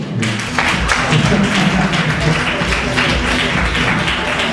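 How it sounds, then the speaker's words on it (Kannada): A loud, dense burst of audience applause fills a Sandalwood women's celebrity cricket league event, sustained clapping with some voices mixed in. "ಕೋಆಪರೇಟಿವ್ ಆಗಿರೋರೆಲ್ಲ ಜೋರಾಗಿ ಚಪ್ಪಾಳೆ ಕಟ್ಬೋದು"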